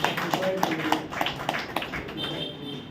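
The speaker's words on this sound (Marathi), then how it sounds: "याबद्दल आपण सर्व एक वेळेस टाळ्या वाजूया" A church congregation at a Sunday service claps together for a woman's birthday, a brief, uneven patter of hand claps running alongside a speaking voice before fading out.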